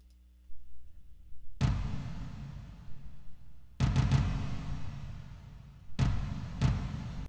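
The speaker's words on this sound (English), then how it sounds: "we've added some heavy toms, which are always cool." Heavy toms in a music production, dramatic booming drum hits arriving in grouped strikes with decaying resonance, deep and full, separated by pauses, heard alone without accompaniment.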